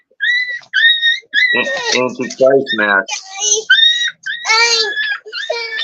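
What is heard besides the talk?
puppies whimpering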